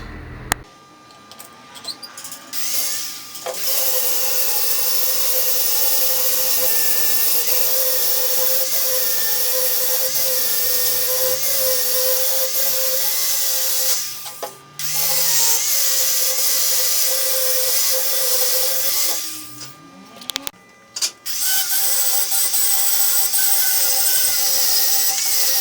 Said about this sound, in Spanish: Ahora disco de desbaste y amoladora para sacar la rebarba, prolijar y empezar a darle la forma definitiva al cuchillito.